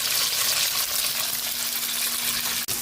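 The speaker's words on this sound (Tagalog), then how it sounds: "Magprito na po tayo ng ating pork tocino" Pork tocino fries in a pan with a steady, close sizzle and crackle that holds evenly throughout, with one brief break near the end and no voices.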